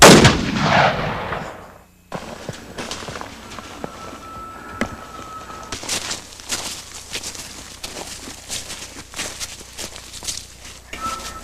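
A hunting rifle fires loudly once at the start of an elk hunt in the woods, followed by quieter rustling, footsteps and movement through brush.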